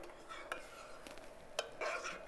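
Bulgur is stirred in a pot of boiling water on the stove, giving faint scraping swishes with a few light clinks of the utensil against the pot.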